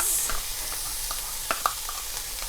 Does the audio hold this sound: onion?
yes